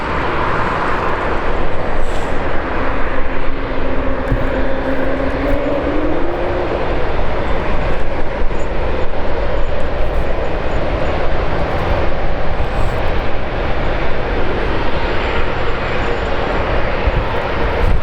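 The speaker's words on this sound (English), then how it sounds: "JAL aircraft as well, just landed." A JAL jet landing at London Heathrow roars steadily for the whole stretch, a loud, broad engine rumble with a faint tonal whine sweeping briefly through the middle, heard from a spotting position with no talk.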